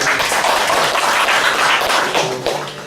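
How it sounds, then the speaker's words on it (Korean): Congregation at a church certificate ceremony in Seongnam clapping together, a loud, dense burst of many hands that stays steady before tapering slightly at the end. "박수 해주시기 바랍니다"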